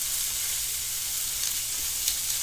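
Steak sizzles in a frying pan with a steady, dense hiss that stays even and close throughout, with only faint pops and no talking.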